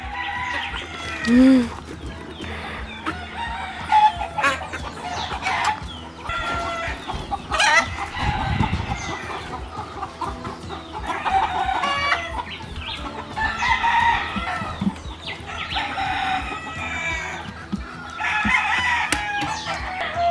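Backyard chickens in a coop cluck and chatter continuously nearby, with one rooster crowing briefly early on and a few scuffling noises among the birds.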